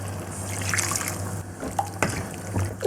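About one and a half glasses of water poured into an iron cheenachatti pan of beef being cooked for beef peralan. The water splashes and trickles steadily, with a few drips and clinks near the end.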